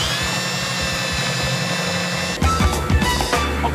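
A power tool whirs steadily and close while fitting hinges to a plywood camp kitchen, then changes to uneven bursts and clatter of the tool working into the wood.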